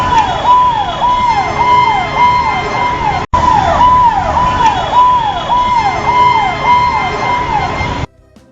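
An ambulance siren wails loudly and close by in a steady repeating up-and-down cycle, with a brief cut partway through before it carries on.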